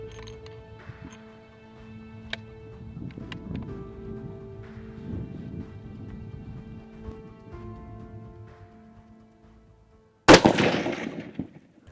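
A single sharp, very loud rifle shot from a .308 Win loaded with DRT Terminal Shock ammunition cracks near the end, after a quiet stretch of low hum and wind outdoors.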